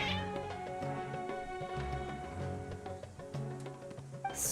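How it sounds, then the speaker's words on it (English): Several cats in Genshin Impact meow and caterwaul insistently, layered with game background music, the cries loud and continuous throughout. "Your cats seem pretty worked up."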